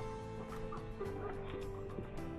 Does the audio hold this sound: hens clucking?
yes